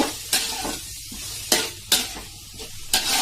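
Cut tomatoes with masala sauté in a pan under a steady sizzle, broken by several sharp scrapes and clatters of a spoon stirring against the metal at close range.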